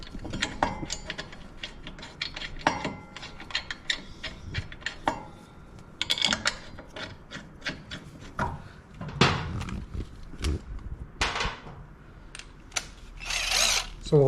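Mounting bolts on the rear brake caliper of a Harley-Davidson Road Glide are tightened, giving close, repeated ratcheting clicks and metallic tool handling in irregular bursts.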